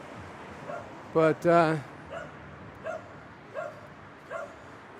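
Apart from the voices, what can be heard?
homeless street dog barking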